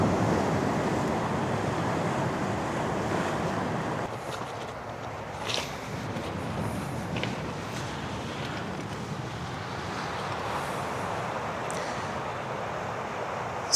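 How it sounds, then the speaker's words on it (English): Waves break on a rocky coast at Sele Harbour, a steady low rushing surge mixed with wind across the microphone, faint and continuous with slight swells and no talking. "listen to the sound of the breaking waves"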